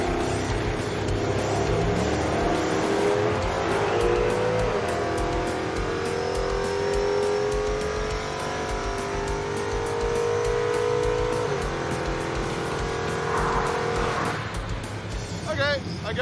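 Pickup trucks drag racing on street tires down a strip, engines roaring and revving steadily at high power for a long run, loud and continuous, with people talking over the noise.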